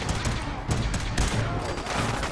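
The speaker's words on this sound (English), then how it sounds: "Who's shooting at me?" Rapid gunfire in the Fallout 4 game, a loud, dense stream of overlapping shots in a fusillade that runs continuously through the moment with no talking.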